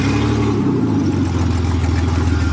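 A Ranger truck engine roars at full throttle while climbing a steep hill, a loud, steady, close-up drone with throbbing low rumble and clatter throughout, no let-up.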